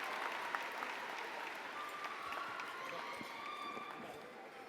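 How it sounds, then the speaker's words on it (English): A large crowd at an Atlanta high school graduation applauds the outstanding seniors, a steady wash of distant clapping and cheering heard faintly throughout. "Let's give a round of applause to all of these outstanding seniors for a job well done."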